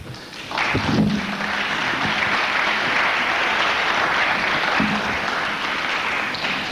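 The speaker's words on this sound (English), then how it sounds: "Let's give him another round of applause." Steady, dense applause from a lecture audience fills the room after a talk, loud and sustained throughout with only a couple of faint voice murmurs underneath.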